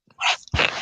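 A pet dog gives two quick, close barks in a row, short and fairly loud, with nobody speaking.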